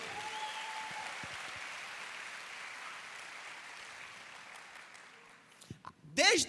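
Dense church congregation applause fills the room as a sustained, even roar of clapping that slowly tapers off, followed by a brief moment of louder sound at the end.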